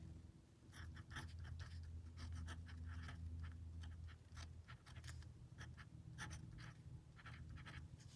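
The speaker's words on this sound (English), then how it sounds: "I'm going to write out my original formula again." A pen scratching out a circuit formula by hand, with quick bursts of strokes and short pauses in a quiet room, close and fairly faint, with no speech.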